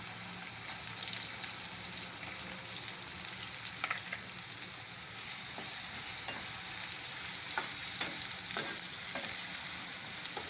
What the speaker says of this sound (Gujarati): હવે આપણે આ ડુંગળી નાખી દેવું